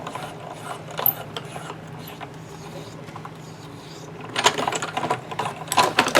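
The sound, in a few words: Spellbinders die cut machine cranking plates through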